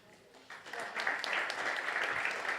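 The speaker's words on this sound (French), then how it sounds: "une bonne main d'applaudissements pour nos finalistes de la catégorie innovation" A crowd at a business awards ceremony claps for the innovation-category finalists, the applause swelling after a quiet start into a steady, moderately distant patter of many hands.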